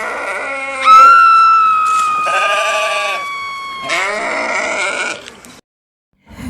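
A sheep bleats loudly and close in a bathroom, long wavering cries repeated two or three times in succession, then a brief silence before another sound begins.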